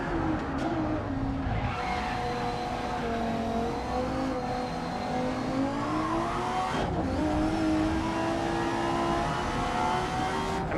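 Race cars roar around the track in a racing video game, with engines revving through gear changes, a sustained whine of several cars close together and occasional tire squeal, continuous and loud throughout.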